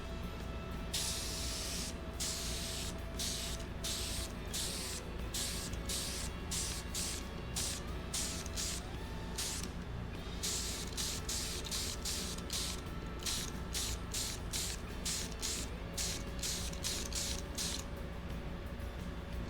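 Blue spray paint hissing steadily from an aerosol can onto a GT40 tubular intake manifold, a loud continuous close spray broken by short regular pauses between passes, no talking.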